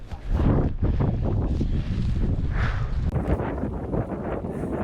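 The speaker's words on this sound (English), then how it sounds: "Here that wind is coming right on this ridge." Cold wind gusting across an Appalachian Trail mountain ridge, a loud continuous roar buffeting the microphone with rushing, rumbling surges throughout.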